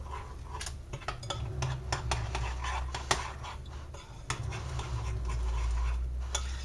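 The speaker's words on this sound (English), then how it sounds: "you're just going to mix it until it's smooth, and it takes a while to mix" Bisquick batter is beaten in a bowl with a utensil, giving a fast run of close clicking and scraping taps over a low background hum.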